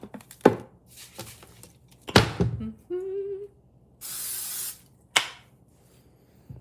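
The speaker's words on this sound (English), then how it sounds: "I don't want to hear any shit about using cooking spray." Cooking spray hisses into a frying pan in one steady burst lasting about a second, surrounded by kitchen clatter and knocks from the pan and utensils.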